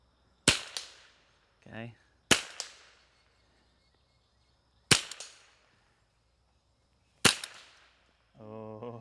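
A Ruger 10/22 rifle fires four sharp, loud shots spaced a couple of seconds apart, each with a short decaying echo at an outdoor range, and brief speech follows some of the shots.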